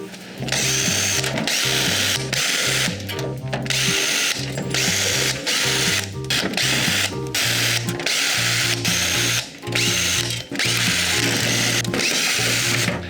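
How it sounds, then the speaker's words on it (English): Screws are being driven out of the back of a computer case, heard as loud, close bursts of mechanical ratcheting whir that start and stop repeatedly over a steady background, with no voices. "I've gone and taken all the screws out of the back"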